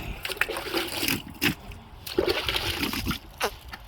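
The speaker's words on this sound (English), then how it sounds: "Bit of a clean out with water." Water rinsing a skinned sheep carcass hanging inverted, with bursts of splashing and sloshing spray hitting the meat, fairly close and uneven, with faint talk in the background.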